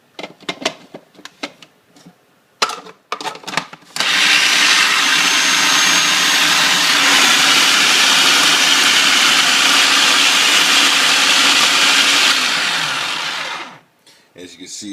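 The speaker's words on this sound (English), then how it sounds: "I'm going to place it into my food processing cutting food processor here" Food processor chopping fresh salsa ingredients, a loud steady whirring that runs about ten seconds before cutting off, preceded by clattering handling noises and a voice.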